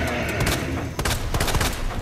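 Rapid volley of gunshots from Resident Evil 2 gameplay, with several sharp broadband blasts in quick succession and a loud, dense burst near the end, mixed with game background noise.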